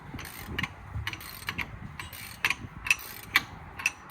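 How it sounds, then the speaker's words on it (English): Breaker bar on an extension loosening brake caliper bolts on a Ford Focus Mk2 1.6 TDCi, giving a series of sharp metallic clicks and ratcheting ticks in a steady, uneven rhythm, close by and moderately loud with no talk. "I'm gonna use an extension, the breaker jack handle, to break them loose."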